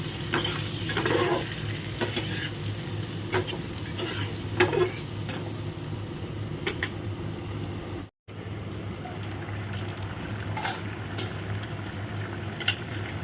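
Boiled potatoes with salt and turmeric fry in a pan, sizzling steadily up close. Stirring scrapes and spoon taps come through, and the sizzle briefly cuts out partway through.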